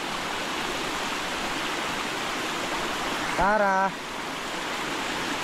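Water from a small spring waterfall rushes in a steady, broad hiss close by, with a brief spoken word in the middle over the flow.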